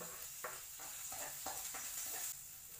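Garlic and onion sautéing in a pan for chicken adobo: a steady, faint sizzle with a few soft scraping strokes as the pieces are stirred, no voices.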